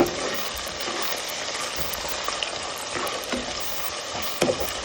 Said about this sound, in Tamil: வெங்காயம் சேர்த்தாச்சு இது நல்லா வதங்கட்டும்